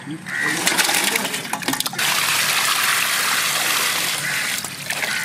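Tap water gushes and splashes steadily nearby as quail meat is rinsed clean at a village farm kitchen, with a brief clatter of handling early on and a continuous rushing flow after.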